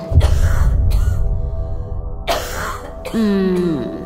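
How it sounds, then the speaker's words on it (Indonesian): A woman coughs and clears her throat a few times, close and rough-edged, with short pauses between the bursts. "Lalu terdengar suara seorang perempuan batuk"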